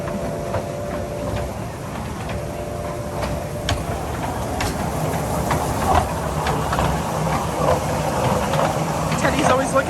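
A small loop train ride at Disney Springs rattles along with steady rhythmic clicking and rumbling close by, while people talk over it.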